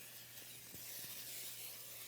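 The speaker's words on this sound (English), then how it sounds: "So we are going to spray a pan." Cooking spray hisses softly onto a sheet pan for quesadillas, a quiet steady spray lasting about two seconds with a few faint clicks from the can.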